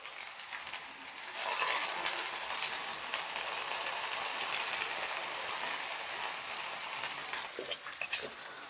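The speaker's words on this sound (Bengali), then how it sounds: "এবারে হালকা হালকা করে ফ্রাই করে নিই চাউমিনটা" Chow mein fries in a pan with a steady bright sizzle that rises sharply after a quiet start and holds, broken by occasional clanks of stirring and one louder knock near the end.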